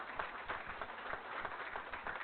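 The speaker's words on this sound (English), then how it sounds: "You can clap." An audience at a school district board meeting claps with a dense patter of many hands that continues steadily for a couple of seconds, moderately loud with no clear talk over it.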